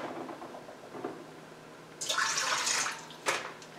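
Water poured from a container into a bowl of easy muffin mix in a home kitchen, a brief splashing pour followed by a second short splash, close and moderately loud, with quiet sounds before it.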